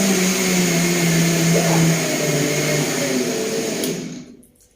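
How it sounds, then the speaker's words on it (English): A blender runs steadily at high speed, whirring loud and even as it blends cashew milk with bananas and dates, then winds down and cuts off near the end. "because I like my blender, sometimes I just turn it up and turn it up"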